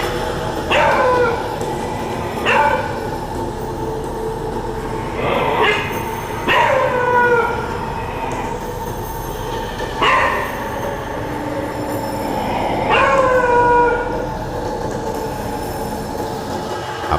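A beagle puppy barks at night toward a kitchen, several sharp, separate barks spaced a few seconds apart against a low background hum, with no voices.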